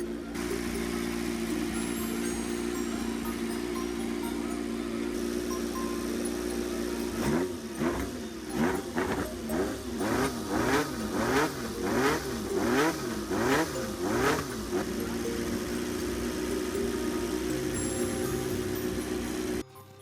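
A 1964 Ferrari 158 1.5-liter V8 Grand Prix engine holds a steady, loud drone, then rips through a fast series of sharp rev blips that climb and fall for several seconds before it settles back to a sustained howl.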